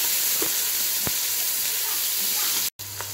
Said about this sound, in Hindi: इसके साथ ही हम अपनी कटी हुई प्याज ऐड कर देंगे, इन्हें डालकर अच्छी तरह से भून लें